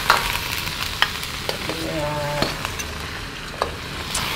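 Prawns and basil with fish sauce sizzle in a hot wok during a spicy stir-fry, a steady bright frying hiss with occasional clinks and stirring scrapes, close and continuous.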